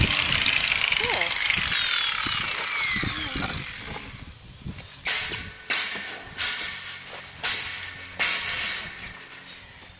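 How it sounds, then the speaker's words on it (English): A power grinder trims a horse's bare hoof with a sustained high whine, then works in a series of rhythmic bursts, close and loud, with some background noise. "second time he's ever had a power tool on his foot"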